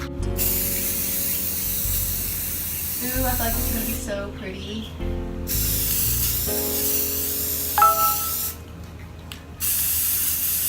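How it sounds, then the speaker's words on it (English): Long bursts of aerosol spray paint hiss loudly from a can onto an old mirror frame, stopping and restarting several times, with someone speaking briefly between sprays. "I'm just gonna start by going in with a layer of spray paint."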